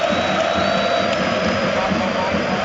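A football stadium crowd at Newcastle United against Borussia Dortmund in heavy rain reacts with a loud, sustained roar and cheering, a broadcaster's voice running over the top.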